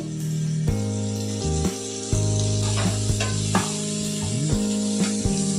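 Chopped green chili and white onion fry in a pan over low-to-medium heat, giving a steady close sizzle with a few stirring knocks under continuous tonal background music.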